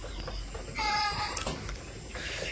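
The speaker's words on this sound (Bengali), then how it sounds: "আমাদের যে মুরগি শব্দ শুনতেছেন" Village chickens cluck briefly and softly in a rain-soaked yard on a quiet morning, a short burst of calls over faint background noise.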